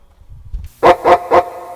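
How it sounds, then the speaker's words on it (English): A dog barking three times in quick succession, loud and close, with each bark short and evenly spaced after a few soft low thumps. "Barked the dog."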